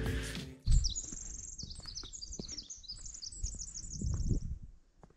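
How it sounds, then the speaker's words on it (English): Outdoor bird song: a quick run of bright, high chirps and trills repeating for several seconds, fairly close and clear over a quiet background with a few soft thumps. "Did you hear that bird song?"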